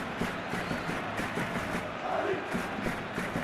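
Stadium crowd in a Real Madrid vs Real Sociedad La Liga football video game simulation, a steady dense roar of many voices filling the whole stretch with no clear peaks.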